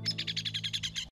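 Baby birds in a cartoon chirp rapidly, about ten quick high tweets in an even rhythm over a low steady hum, close and clear before stopping abruptly.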